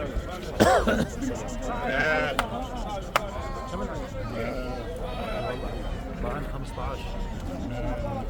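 Sheep bleat repeatedly among the crowd at the Kirkuk sheep market in Iraq, wavering calls rising over a constant busy din of people talking and moving, with occasional sharp knocks and clacks nearby.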